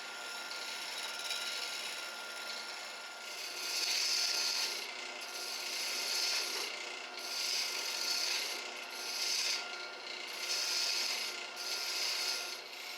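A wood lathe turns an ice cream scoop handle blank while a tool shapes it, giving a steady scraping hiss with rhythmic surges as the cut comes and goes.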